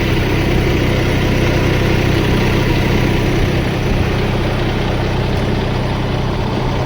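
A motorcycle engine runs steadily and loudly at close range, a constant droning rumble with no break while the bike is ridden along a village farm track.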